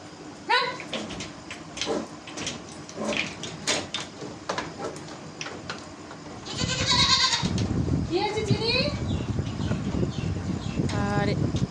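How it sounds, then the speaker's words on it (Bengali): A goat close to giving birth bleats on a farm in short repeated calls, with voices talking nearby and a rougher, louder stretch of noise near the end. "দেখো এই যে ছাগলটা দাঁড়িয়ে আছে"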